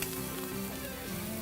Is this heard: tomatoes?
yes